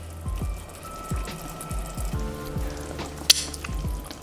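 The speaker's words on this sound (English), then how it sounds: "Next, we're going to add our diced up tomato. Also, I'm going to add about half of the seaweed." Diced tomato and hijiki seaweed hit a hot pan for vegan dou ban jiang noodles, sizzling with repeated crackles and spits and one sharp pop near the end, close and fairly loud with no voices.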